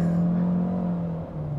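A Chery Omoda 5 accelerating in Eco mode, engine holding a loud, steady low drone close by, easing slightly near the end.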